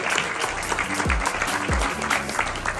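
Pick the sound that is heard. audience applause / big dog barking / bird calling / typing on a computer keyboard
audience applause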